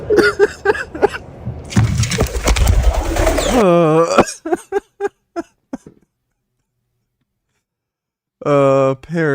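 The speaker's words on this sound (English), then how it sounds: "Parrots. I love parrots." Parrots call in loud, close bursts: harsh squawks and short rising cries, separated by a noisy rush and then a silent gap before a final strident call.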